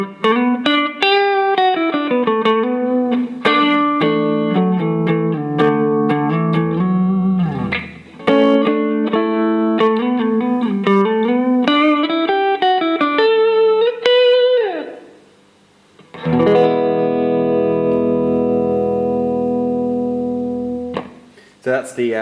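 An electric guitar on its neck pickup plays through a Fender Twin amp with a clean tone, a steady melodic run of single notes and chords, close and loud, ending on a sustained ringing chord with pitch bends.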